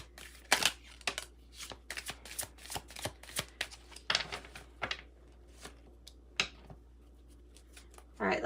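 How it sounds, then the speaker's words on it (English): Tarot cards are shuffled and pulled in a string of crisp, close riffles and snaps that come irregularly over several seconds, then pause before a final flurry, all against a quiet background. "Pull me some cards for Leo, please."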